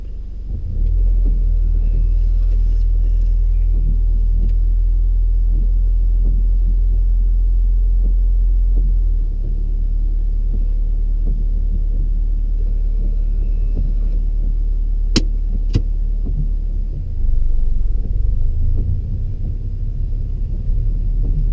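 A learner's car driving off during a driving lesson, a steady loud low engine and road rumble inside the cabin that continues throughout with a slight rise near the end.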